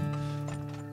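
Horses in the stock-trading video game Turmoil give a short burst of hoof clip-clop over a steady humming, mechanical game background, with no voice over it.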